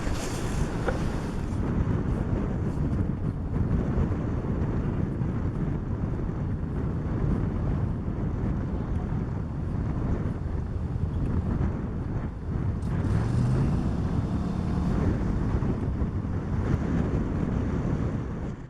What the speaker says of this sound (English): I had to extract the audio out of this because the wind was too bad